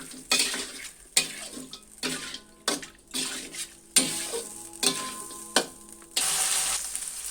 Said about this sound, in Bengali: মশলার সঙ্গে মাংসটা ভালোভাবে কষিয়ে নিব।